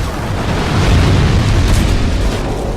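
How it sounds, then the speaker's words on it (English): Explosion going off as ballistas fire in Dark Souls 2: Scholar of the First Sin, a loud rumbling boom that fills the whole stretch, heavy and close, with no speech. "I don't know if that explosion is an oversight, because usually that doesn't go off when the ballistas fire"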